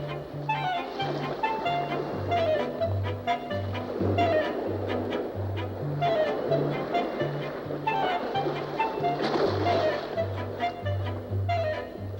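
Ocean surf breaks and churns as penguins enter the sea on the Pacific coast, a continuous rushing wash with surges, partly under a steady low musical drone.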